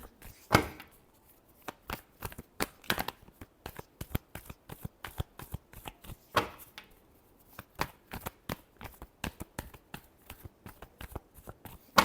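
Tarot cards are shuffled in quick, crisp riffles and slaps, a dense run of sharp papery snaps with brief pauses, close and fairly quiet throughout with no talking.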